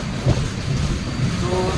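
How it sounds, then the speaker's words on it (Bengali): A train pulls out of Srikakulam station in Andhra Pradesh, heard from on board as a loud, continuous low rumble with faint rolling clatter. "ট্রেনটা ছেড়ে দিয়েছে"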